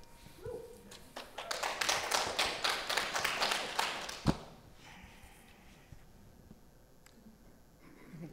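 Audience applause at a congressional district debate in Maryland, a burst of rhythmic clapping building for a few seconds, ending with a thump, then fading into quiet room noise.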